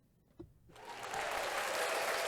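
Applause sound effect swelling in after a brief quiet pause, a steady dense clatter of clapping that holds loud and even to the end.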